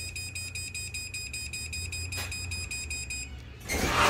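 A door access controller beeps continuously in a rapid, steady pulse that stops near the end, followed by a burst of louder, broadband noise.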